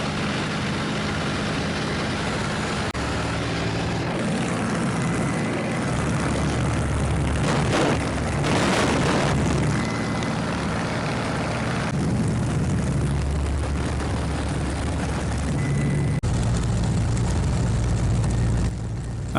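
A Spitfire's piston engine and propeller during aerobatic flight: a loud, continuous, rough roar that swells and shifts in pitch through the manoeuvres, with no talk over it.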